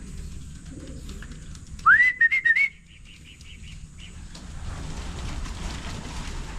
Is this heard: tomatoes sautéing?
no